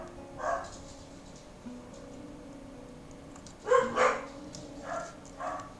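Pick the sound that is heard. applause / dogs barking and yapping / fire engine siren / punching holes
dogs barking and yapping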